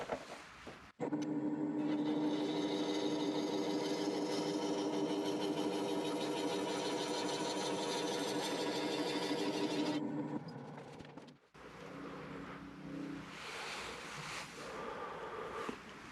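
A wood lathe spins a green ash bowl while a freshly re-honed gouge makes a fine cut, a steady whirring hum for about nine seconds that then stops and is followed by softer rumbling.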